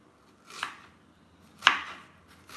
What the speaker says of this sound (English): Now, when onions are raw, they have to be cut tiny